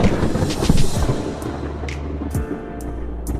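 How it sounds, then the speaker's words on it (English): Thunder sound effect laid over slow-motion footage of a MIG-welded metal goal frame, a loud rumbling roll with scattered sharp crackles, no voices. "we've added thunder and lightning as well"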